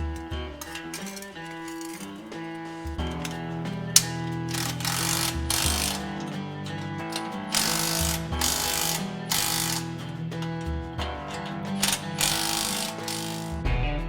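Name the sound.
tightening exhaust band clamp on Jeep Wrangler Y pipe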